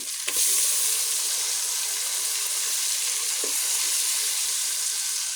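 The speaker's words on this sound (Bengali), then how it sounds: "তো আমার এই যে খাসির মাংস আজকে রান্না হচ্ছে।" Mutton curry with well-fried spices sizzles steadily in a pan, a loud continuous frying hiss with a couple of faint stirring knocks, no voices.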